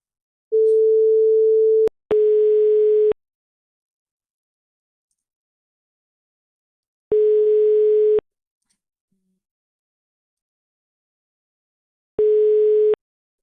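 Telephone line tones heard while calling a number: a long steady tone, then separated beeps repeating at intervals with silence between, clean and electronic.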